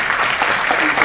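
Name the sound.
audience applause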